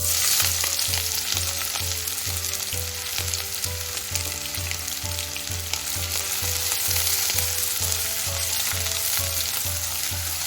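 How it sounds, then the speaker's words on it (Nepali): Chopped onion frying in a pan for tomato pulao gives a steady, loud, close sizzle with a regular low rhythmic thump running underneath throughout, no talk. "प्याजले आफ्नो कलर चेन्ज गर्नुन्जेल यसलाई हामी यसरी फ्राई गर्नेछौँ"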